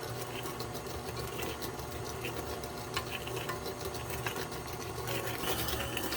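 An electric stand mixer beats three cups of sugar for a 7up pound cake, giving a steady, close whirring drone with a faint rattling texture that runs unbroken throughout.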